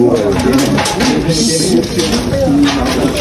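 Racing pigeons coo intermittently while being moved between enclosures, under steady background chatter and rustling that stays fairly loud throughout.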